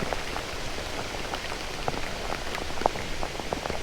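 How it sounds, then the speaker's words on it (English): Heavy rain patters on a surface in Thailand, a constant soft hiss broken by scattered sharp drops close by, without voices. "That's a lot of rain."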